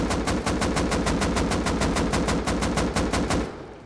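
Rapid automatic weapon fire in Rust, hip-fired in one loud, evenly paced burst of roughly twenty shots over nearly four seconds, ending abruptly.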